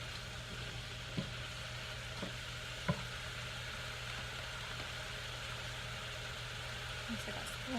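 Patty pan squash cooks in a pan, giving a steady, gentle sizzle with a faint low hum and a few soft clinks of a utensil.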